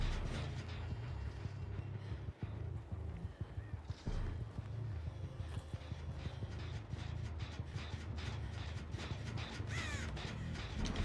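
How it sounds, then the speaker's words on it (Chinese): Crows caw repeatedly in the horror video game Dead by Daylight, rough calls scattered through a dense, steady bed of in-game ambience and clattering noise, with no speech. "刚刚这里乌鸦有经过"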